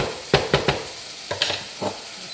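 A chickpea stew in a pot is stirred, with a few short scraping strokes in two quick bursts, close up over a soft continuous simmering hiss.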